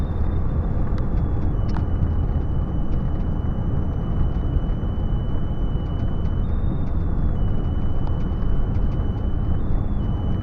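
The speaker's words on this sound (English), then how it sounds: "That's the heater fan just deciding to be unhappy." Heater fan running inside an old, cheap 4x4 truck cab, a steady broad whir with a thin high whine that wavers slightly, constant and close throughout with no talking.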